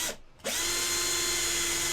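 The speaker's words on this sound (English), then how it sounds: "the bigger drill is gonna be so much easier getting in there." A larger power drill bit bores into a resin model kit, its high whine dipping briefly before settling into a loud, continuous, close-up grind.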